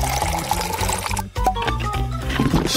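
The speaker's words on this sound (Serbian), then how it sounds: "I tek sad ću dodati vrelu vodu." Hot water poured from a kettle onto freshly hand-ground coffee in a kitchen: a steady close pour lasting under three seconds, with a brief break midway and no talking.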